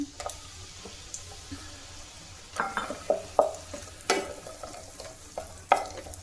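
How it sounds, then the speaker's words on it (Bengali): Oil sizzles steadily in a hot pan as lentil dumplings fry, with scattered sharper crackles and stirring clinks, the spattering swelling in bursts toward the end. "সবার আগে বড়িটা ভেজে নিই।"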